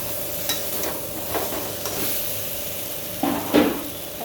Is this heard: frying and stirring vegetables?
yes